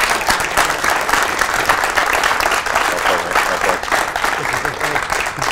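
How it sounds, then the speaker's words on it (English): Audience applause for Derbyshire pool champion Jack Whelan at the IPA World Pool Singles Final in the Magnus Centre, Rotherham: dense, steady clapping from a sizeable crowd that holds at an even level throughout. "ladies and gentlemen, round of applause from Derbyshire"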